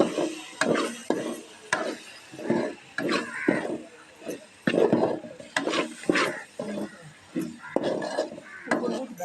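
Eggplant stirred with turmeric and chili powder in a pan for a home-style kootu: steady, rhythmic spoon scrapes and clinks against the pan, about a dozen strokes, with a faint sizzle underneath.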